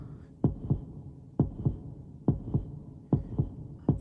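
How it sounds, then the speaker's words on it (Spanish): Deep, thumping heartbeat in an anime boxing scene, a slow lub-dub repeating about five times over a low hum, close and prominent. "Puedo escuchar mis propios latidos."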